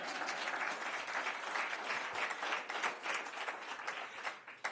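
A crowd at Coppin State University in West Baltimore claps steadily at an event announcing EV charging stations, dense applause heard from a distance, fairly faint and unbroken by talk.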